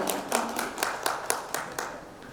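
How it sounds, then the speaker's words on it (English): A conference audience at an education opening session claps to welcome a speaker, a thin scattering of distinct hand claps over a faint room wash, fairly quiet and a little irregular. "A huge round of welcome and applause"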